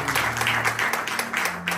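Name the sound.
congregation applauding the word of God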